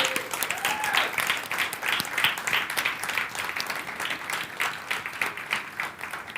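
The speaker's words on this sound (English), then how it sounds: "Can we give them a round of applause?" An audience at a keynote talk at AcuityCon 2023 applauds pod leaders who have stood up. The clapping is dense, steady and moderately loud throughout, with no voices over it.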